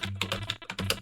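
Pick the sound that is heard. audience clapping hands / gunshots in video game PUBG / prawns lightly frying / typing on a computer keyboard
typing on a computer keyboard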